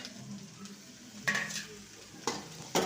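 Onions and tomatoes sautéing in a pan, a quiet sizzle with three distinct scraping stirs of a spoon against the pan.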